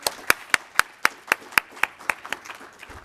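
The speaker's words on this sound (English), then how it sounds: "Let's give him another round of applause, please" Slow, evenly spaced claps at a Black History Month celebration, about a dozen sharp distinct hand claps roughly a quarter second apart, close and moderately loud, with no voices over them.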